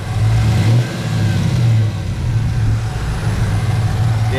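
A Chevrolet Camaro SS V8 with a muffler delete and long tube headers revs up loud and near, its deep engine roar rising and settling over a steady rumbling idle.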